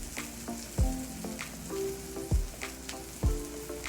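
Buttered apple slices sizzle softly on a grill, a quiet continuous frying hiss broken by a few sharp taps or clinks at regular intervals.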